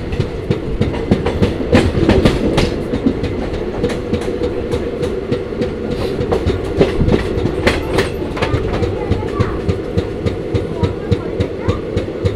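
A train running on rails through North Bengal, near Kishanganj and bound for New Jalpaiguri, with a steady loud rumble and repeated clickety-clack wheel beats throughout.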